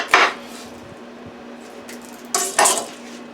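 A very sharp knife slices the top off a piece of fruit for a fruit platter, giving two brief, crisp cutting clacks a couple of seconds apart against a quiet background, with no talk.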